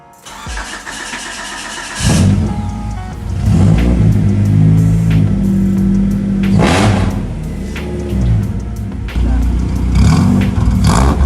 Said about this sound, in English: So this is a car engine